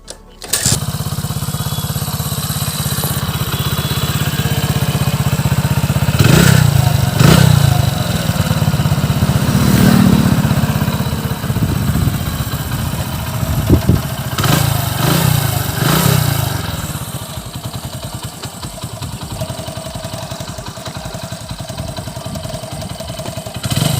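A restored Hero Honda CD Dawn motorcycle with a rebuilt engine and a repaired silencer runs close up, a loud steady single-cylinder chug with a few throttle blips and slight clatter, and no voices.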